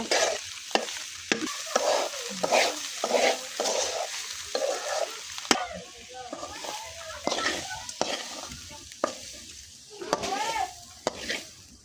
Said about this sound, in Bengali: এই তো তরমুজের ঝুল্লি ভাজা হয়ে গেছে